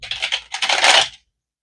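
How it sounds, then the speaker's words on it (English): Tarot cards shuffled right beside the microphone, giving two quick bursts of crisp, close riffling and slapping card noise before it cuts off to silence. "I'm realizing I'm shuffling right under the microphone."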